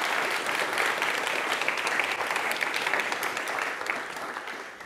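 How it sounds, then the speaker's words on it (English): An audience at an incubation program demo day gives a brief round of steady, moderately loud applause for mentors, easing off slightly toward the end. "maybe this would be the moment to quickly have a short applause for our one-on-one"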